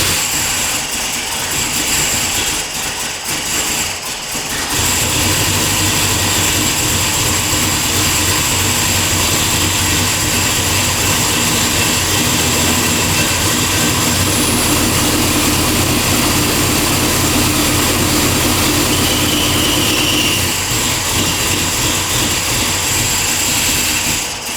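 A car engine fitted with a Summit Racing MAX-efi 500 fuel injection system runs steadily and loudly throughout, a continuous dense roar after a brief dip near the start.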